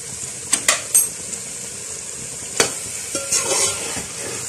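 Carrot halwa with cardamom being fried in oil in a pot, a soft continuous sizzle broken by several sharp scraping stirs of a spoon against the pan.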